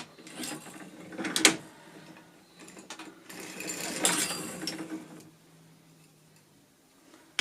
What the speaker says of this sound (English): you do need to crank all the way over to the other side to get the needles to lift up the right way